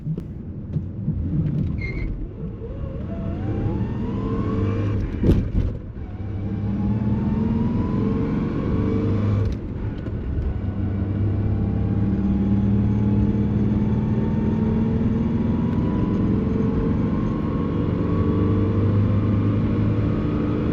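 Heavy truck engine starting and then accelerating onto an interstate, a steady low engine drone that climbs gradually in pitch through the gears, with a sharp knock or clunk partway through and no talk.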